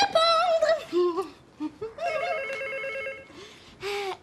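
Telephone rings loud and close in a French-language children's series, bright repeated electronic trills in bursts with short pauses between them.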